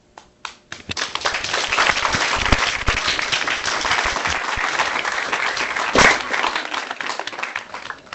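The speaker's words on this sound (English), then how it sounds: "please join me in giving a round of applause" A large audience breaks into sustained applause that quickly builds and holds steady for several seconds, with a few early scattered claps.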